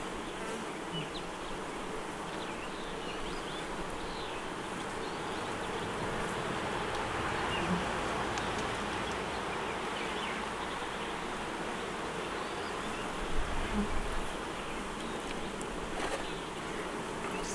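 Honeybees at an open hive during an inspection, drones among them, fill the air with a steady, close, dense buzzing that runs unbroken throughout.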